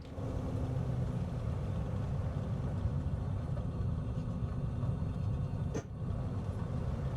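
Steady loud engine roar and rumble of a light aircraft accelerating down runway 24 at Plymouth in Microsoft Flight Simulator, continuous throughout with a brief dip near the end and no talk.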